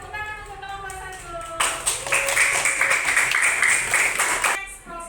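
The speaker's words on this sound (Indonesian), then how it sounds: "tepuk tangan untuk kelompok 1" Classroom students clapping for a group after its presentation, a loud burst of applause that starts partway through and fills the room for about three seconds, following and overlapping a teacher's voice.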